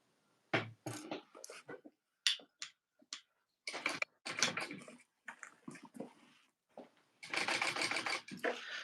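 A sewing machine stitching a tote bag from the inside, running in short stop-start bursts of rapid mechanical chatter with brief pauses between, ending in a longer steady run.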